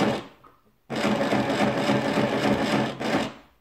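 A sewing machine stitches fabric for make-up remover wipes, running in a fast steady whir for about two seconds after a brief pause, then stopping and starting again briefly.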